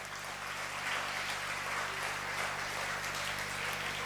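An audience at a winter session talk applauding, a steady, moderately loud patter of many hands clapping that carries evenly throughout with a low hum beneath.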